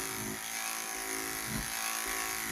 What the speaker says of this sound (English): whenever I cut with just the clipper head with no attachment on it